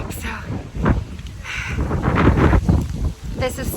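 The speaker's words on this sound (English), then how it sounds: "It's super windy, super rainy." Strong wind buffets the microphone in gusty bursts outdoors on a rainy day in Edinburgh, Scotland, with people talking over the blustery noise.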